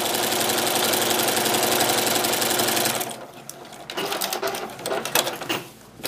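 Sewing machine stitching a straight quilting line, a steady rapid mechanical whir for about three seconds, then stopping and giving way to quieter handling clicks and rustles.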